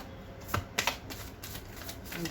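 Tarot cards shuffled and drawn during a reading: a few crisp riffling snaps and papery slides, fairly quiet and close, over a faint room hiss.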